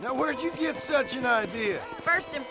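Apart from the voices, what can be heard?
No distinct noise like a dog, phone or traffic.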